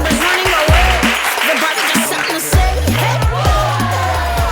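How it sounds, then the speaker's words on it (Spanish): An audience at a school theatre performance about gender applauds loudly and continuously, a dense wash of clapping with voices talking and calling out over it. "Un fuerte aplauso a la regla"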